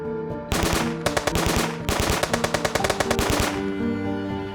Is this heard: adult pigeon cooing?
no